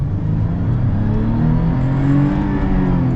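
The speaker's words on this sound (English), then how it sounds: "now let's get our acceleration here with the FJ" A 2014 Toyota FJ Cruiser with a manual transmission accelerates, its engine droning loud and steady with a rising, layered growl throughout.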